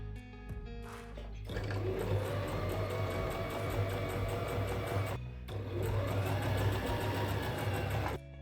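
A sewing machine stitches a leather yoke onto a trench coat front in two sustained runs separated by a short pause, the motor whirring steadily and close.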